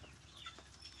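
Chickens cluck by a henhouse outdoors, faint and partly buried in steady background noise, with no one talking.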